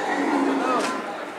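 A cow at a livestock market gives a short, close moo that rises and falls over a second, amid crowd noise.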